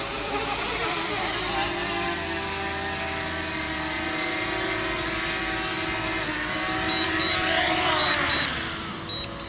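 A DJI Mini 2 drone comes in to land with a steady, close propeller whine and buzzing hum that holds level, swelling slightly near the end.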